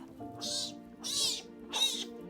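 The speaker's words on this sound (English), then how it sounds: "Rescuing orphaned bobcat kittens, caring for them just long enough." Three high, breathy meows from an orphaned bobcat kitten in rescue care in Southwest Virginia, evenly spaced and close, with faint low background hum.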